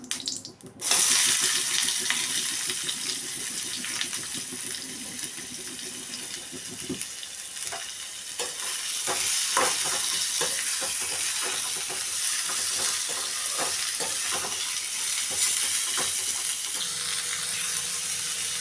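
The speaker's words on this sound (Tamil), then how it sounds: "இந்த எண்ணெயிலேயே வெங்காயம் தக்காளியும் போட்டுடலாம்" Onion and tomato fry in oil for a spicy chutney, a steady hissing sizzle with occasional crackles and pops, joined by scraping stirs and clatter in the pan.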